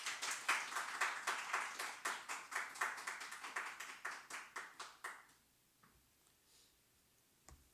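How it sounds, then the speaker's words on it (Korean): Church congregation clapping in blessing during a service, a rhythmic unison handclap at a steady beat, moderately loud for about five seconds, then stopping abruptly into near silence with a few faint taps. "나오실 때 우리 축복의 박수 한번 하겠습니다"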